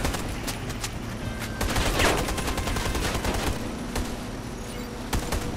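Scattered gunfire in the online shooter Warface, several overlapping bursts and single shots at moderate distance over a steady background din, no voices.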